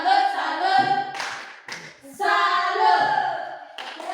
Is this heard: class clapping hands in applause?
yes